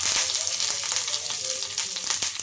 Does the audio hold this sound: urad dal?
yes